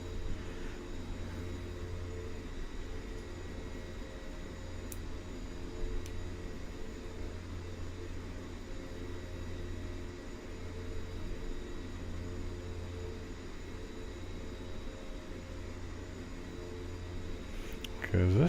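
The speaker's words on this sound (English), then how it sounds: "Because this Twin Otter does not take a lot of runway for takeoff or landing." A de Havilland Twin Otter taxiing to the runway: a steady, droning engine hum and broadband rush heard from inside, constant throughout, rising slightly at the end, with people talking over it.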